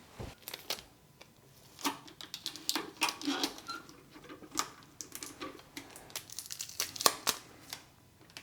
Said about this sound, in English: I'm going to put a little bit of tape up here too.